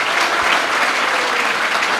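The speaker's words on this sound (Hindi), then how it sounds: "एक बार तो इस बात के लिए भी तालियां बजनी चाहिए" Students at a CIMAGE entrepreneurship talk applaud together, a thick, even wash of clapping from many hands, steady and loud for the whole short stretch.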